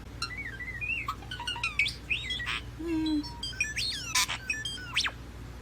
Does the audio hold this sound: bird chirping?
yes